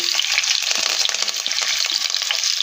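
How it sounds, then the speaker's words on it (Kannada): Onions and curry leaves frying in hot oil while cooking hotel-style dum vangibath, a dense, steady sizzle and crackle with occasional stirring scrapes, loud and close throughout. "ಎಲ್ಲ ಫ್ರೈ ಆಗಬೇಕು ಚೆನ್ನಾಗಿ."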